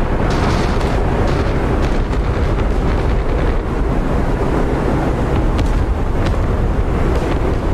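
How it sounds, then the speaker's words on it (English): Naval bombardment of Iwo Jima in a war game, a continuous heavy rumbling roar of distant explosions blending into a dense, unbroken wall of low noise. "The naval bombardment was timed to stop just before the men hit the beach."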